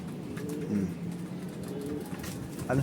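A racing pigeon coos softly and repeatedly against a steady background hum, nearby and without voices.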